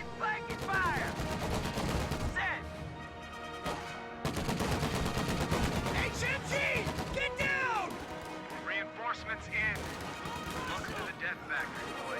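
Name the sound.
machine gun and rifle fire in a video game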